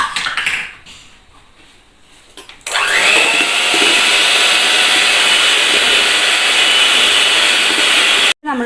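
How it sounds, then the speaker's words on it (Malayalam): An electric hand mixer whirs loudly and steadily as it beats eggs with poured-in rice bran oil for a dog-friendly cake, starting after a quieter opening and running on without pause until a brief cut near the end. "തവിടെണ്ണ ഒഴിച്ചിട്ട് ഒന്നും കൂടി ബീറ്റ് ചെയ്യാം."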